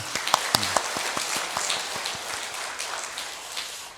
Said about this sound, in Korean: 우리 다시 한 번 더 하나님께 영광의 박수 올려드리겠습니다.